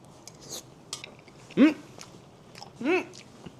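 Someone chews nurungji-tang, a scorched rice soup, in a few close, wet bursts of mastication, with a light clink of cutlery between them.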